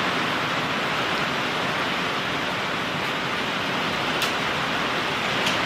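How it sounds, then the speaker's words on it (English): Hail pouring down in a severe thunderstorm, a loud, dense, continuous hiss of countless small impacts with an occasional sharper tick, steady and unbroken from start to end. "I hear the hail"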